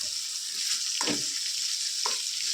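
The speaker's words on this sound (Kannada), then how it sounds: "ನುಗ್ಗೆಕಾಯಿ ಎಲ್ಲ ಚೆನ್ನಾಗಿ ಫ್ರೈ ಆಗ್ತಿದೆ" Peeled moringa drumsticks frying in oil, giving a continuous close hiss and sizzle with two brief stirring scrapes, and no one speaking.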